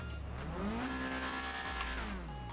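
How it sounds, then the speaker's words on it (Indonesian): A car engine revs with its turbocharger whistling, a rising and falling whine riding over the engine's drone as the revs climb, hold, then drop, heard close with no talking. "Dengar gak lo suara siulan turbonya?"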